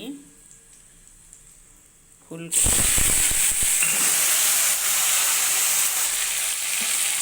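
Whole cumin seeds and panch phoron drop into hot oil after dried chillies. Quiet room tone gives way to a sudden loud burst of crackling, then a steady, close hiss that continues to the end.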